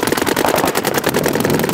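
Paintball markers fire in rapid, continuous bursts during an outdoor game in the snow, the dense popping shots loud and close throughout with no pauses.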